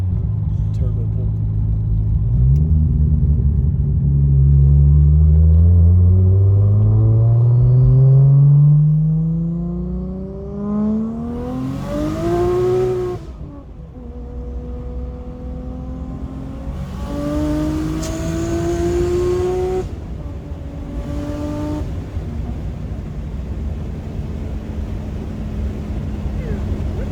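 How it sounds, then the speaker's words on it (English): 1989 MK3 Toyota Supra turbo pulling hard through the gears, loud rising engine pitch with clear upshifts, heard from inside the car over wind rumble, with people talking. "Turbo pull."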